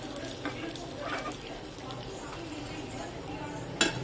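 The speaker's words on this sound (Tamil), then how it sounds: "இதில் கருவேப்பிலை போட்டுக்கலாம்." Curry leaves dropped into hot oil with popped mustard seeds for aviyal, giving a steady loud sizzle and crackle throughout, with a brief sharp clink near the end.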